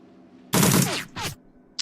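Gunfire in the tactical video game Shadowrun Returns: two loud, close shots about half a second apart, each a sharp blast with a brief ringing tail, followed by a short fainter click.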